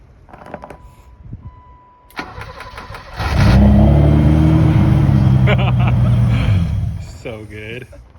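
Barn-found BMW E30 left abandoned for 30 years cranks with a few clicks and starter whirs, then catches and settles into a loud, rough idle close by before revving down, with voices in the background.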